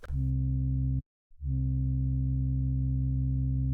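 A sustained, buzzy synth bass tone from the Surge XT synthesizer cuts out briefly, then returns with its upper harmonics gradually opening back up as the filter sweeps from fully closed to open, loud and steady.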